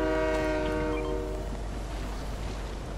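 A video game train sounds its horn loudly in layered tones, then rumbles on as a steady, broad roar of rail noise.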